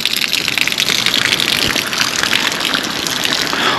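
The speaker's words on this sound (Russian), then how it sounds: "Здесь же бьет прям водопадик сразу." A small waterfall gushes in a steady, loud, broadband rush of water with no pauses, close by and alone, beside a street in Lazarevskoye, Sochi.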